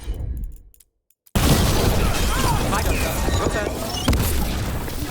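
Mortar fire in a Dragon Age Veilguard battle: after a brief silent gap, a sudden heavy boom bursts in and rolls into sustained rumbling blasts and crackling debris, loud and dense.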